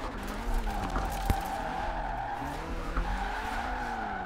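A car drifting on a touge mountain road in Forza Horizon 4, a 427-horsepower drift build with a steady loud engine drone and sustained tire skidding and squeal throughout.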